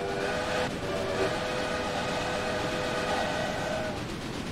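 A steam-era train whistle sounds in the railway strategy game Railway Empire, a sustained, steady tonal blast held for several seconds over a continuous rumble of rolling train noise.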